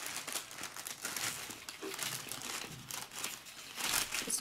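Paper sandwich bags crinkle and rustle continuously as they are folded and glued into a star, a steady close-up scrunching texture with no voices.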